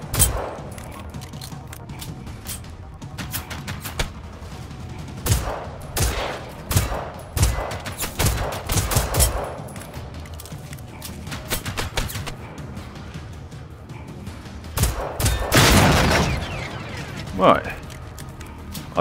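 Gunfire in the video game Generation Zero: sharp, loud shots in scattered bursts and single reports, with quieter gaps and a heavy blast toward the end.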